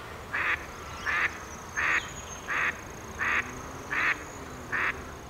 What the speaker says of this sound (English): a flock of Pacific black ducks that were leaving the reserve